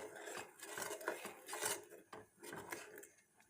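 Wheat-flour and milk sauce thickening in a pan as a utensil stirs it, with soft repeated scraping and clinking strokes that are fairly faint and close.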